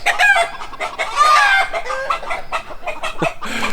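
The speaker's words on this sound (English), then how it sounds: "The cats are chasing the chickens." Chickens cluck and squawk loudly in agitated bursts, several birds calling over one another close by.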